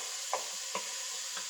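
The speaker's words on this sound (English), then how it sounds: "Start stirring. All right, so we're stirring." A spoon scrapes a few times through chicken tikka masala in hot oil in a bowl-shielded pan, three faint strokes over a steady low sizzle, close but quiet.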